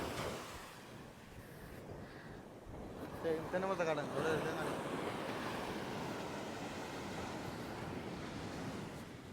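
Sea waves washing up close to the shore at Maruthamunai, a broad continuous surf roar with a louder surge midway, buffeted by wind, with people talking nearby.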